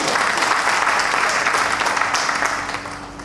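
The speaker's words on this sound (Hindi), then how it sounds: "प्लीज इनके लिए और भी जोरदार तालियां हो जाए" Loud, dense applause from a large crowd at a training event in Baroda, steady throughout and tapering slightly toward the end.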